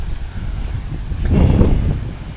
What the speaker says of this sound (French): Petit vent salvateur.